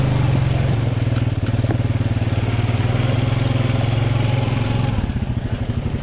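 A Recon ATV engine drones loud and close as it churns through thick, peanut-butter-like mud, a steady throbbing pulse with no pauses.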